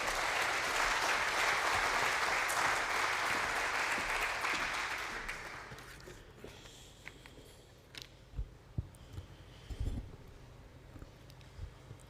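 An audience at the inauguration of the Cleanergy green hydrogen site applauds Mr. Alexander Savries in a steady wash of clapping for about five seconds, then it tapers away, leaving sparse quiet knocks and shuffling.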